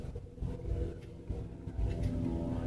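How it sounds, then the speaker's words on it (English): A loud truck passes along a residential street at around 40 to 50 mph, giving a steady low engine rumble that swells slightly toward the end of the brief moment. "got a truck. A loud truck."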